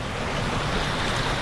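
Rushing water roars steadily through the Walchenklamm gorge around a Gumotex Seawave inflatable kayak, a loud, close, continuous wash of broadband noise with no talking.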